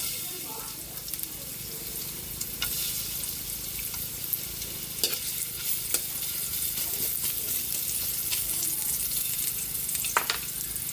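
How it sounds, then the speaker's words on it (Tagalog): Ginger sizzling as it is sautéed in a pan for ginataang isda, a steady frying hiss with occasional stirring clatter and a faint trickle of water, no voices. "Gigisa na po tayo para sa ating ginataang isda, luya."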